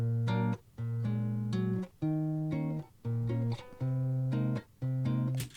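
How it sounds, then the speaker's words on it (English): Nylon-string guitar recorded as a plain direct signal with no amp, playing a rhythmic pattern of plucked chords and bass notes in short phrases separated by brief pauses, close and clear with no voice. "the right channel is just me playing the nylon guitar"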